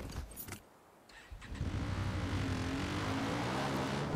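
A vehicle in Far Cry New Dawn starts up and drives off, its engine rising to a steady close drone after a brief lull.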